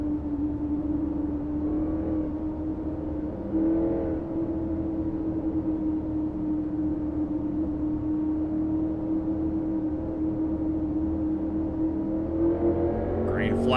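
A NASCAR-style race car engine at a superspeedway, droning steadily at a distance under commentary as the field rolls slowly behind the pace car, with the pitch dipping and rising through gear changes.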